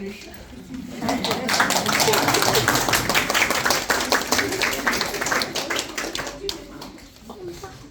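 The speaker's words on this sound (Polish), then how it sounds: "Brawa, Krysiu" Applause for a helper at a book launch, a warm round of clapping from a seated audience that builds, holds for several seconds, then thins out into scattered claps, with some voices underneath.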